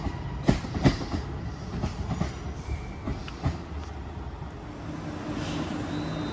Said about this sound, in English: there goes the 10 o'clock London Northwestern Railway service to Crewe from Stafford